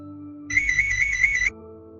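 A phone ringtone sounds for about a second, a bright electronic warbling tone, loud and close, over a low steady background hum.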